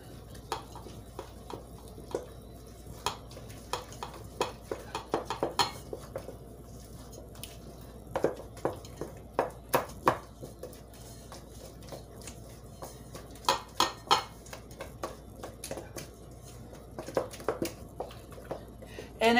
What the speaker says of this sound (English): And get this all stirred up.